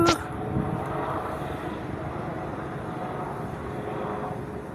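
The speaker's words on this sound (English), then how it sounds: "there it goes, helicopter." A helicopter's engine and rotor hum fades slowly into the distance after a brief louder start, steady and fairly faint.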